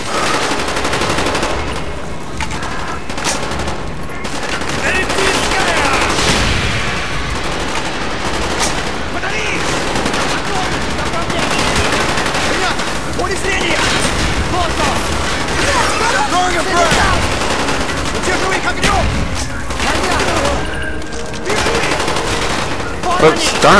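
Sustained gunfire in the video game Call of Duty Black Ops, with rapid automatic bursts, single shots and occasional booms crowding the whole stretch, loud and busy, under game dialogue and talk.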